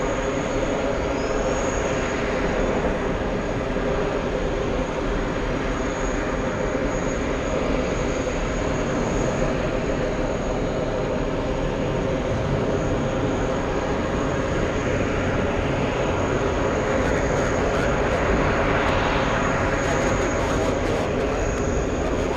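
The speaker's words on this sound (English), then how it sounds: "We have American 333 flying in from Athens." An American Airlines airliner arriving at JFK airport from Athens fills the air with a sustained, even jet rumble that continues unbroken.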